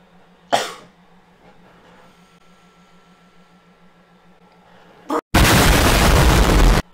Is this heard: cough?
yes